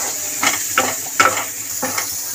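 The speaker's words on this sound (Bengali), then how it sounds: "কাশ্মীরি লঙ্কার গুঁড়ো কালার হওয়ার জন্য ফ্রেন্ডস, হলুদ, স্বাদ মতো নুন দিয়ে মশলাটাকে ভালো করে কষিয়ে নেব" Spice paste of Kashmiri chili powder, turmeric and salt frying in a pan for a Bengali fish curry, with a few soft sizzling bursts and stirring scrapes spaced about half a second apart, close and moderately quiet.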